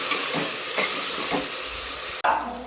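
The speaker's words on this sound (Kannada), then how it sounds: "ಇವಾಗ ಇದಕ್ಕೆ ಟೊಮೆಟೊ ಹಾಕೋಬೇಕು" Tomatoes fry in a pan and are stirred. A loud, dense sizzle runs nearly steady with soft scraping strokes through it, then cuts off abruptly and resumes a little quieter near the end.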